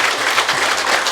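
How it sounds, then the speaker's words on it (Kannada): A large crowd at a meditation session for a Merkabah pyramid inauguration claps loudly and continuously, a dense, bright patter of many hands with no voices over it. "ಜೋರಾದ ಚಪ್ಪಾಳೆ"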